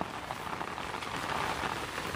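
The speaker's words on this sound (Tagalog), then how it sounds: "Natumba na kasi grabe yung ulan. Tapos may hangin." Heavy rain with wind during a typhoon in tall grassland, pouring down steadily, a dense, constant hiss of drops drumming on surfaces with no voices.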